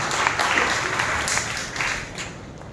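A church congregation claps together at a New Year worship service, a steady wash of applause that holds for a few seconds and then slowly thins out toward the end.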